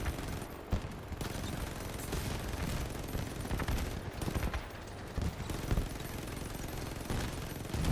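Sustained battle noise from armored vehicles in the Crossout video game, with dense continuous gunfire and rumbling explosions layered loudly throughout with no clear pauses.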